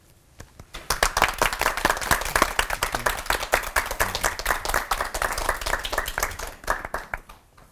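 Applause from a studio audience at a televised Christian lecture on the Trinity, with three pastors preaching; many hands clap in dense, steady bursts for several seconds with no talking over it.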